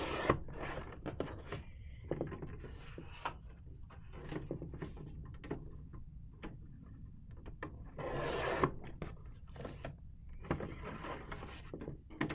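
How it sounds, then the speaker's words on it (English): Paper pieces for a journal page are trimmed in a continuous, scratchy rubbing and cutting sound close by, with repeated strokes and brief sharper scrapes. "I'm going to go ahead and trim these up."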